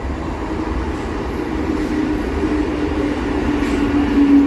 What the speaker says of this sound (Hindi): अब हम लोग ट्रेन जर्नी के जरिए नेक्स्ट स्टॉपेज पे जा रहे हैं